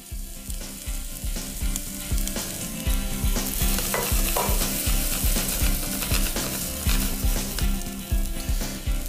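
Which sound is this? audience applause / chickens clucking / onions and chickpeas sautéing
onions and chickpeas sautéing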